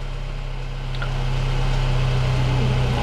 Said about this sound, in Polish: silnik zaczął pracować